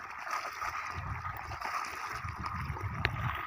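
Water gushing from a borewell motor pipe into a field, a steady broadband rush with gurgling and splashing, continuous and fairly close throughout.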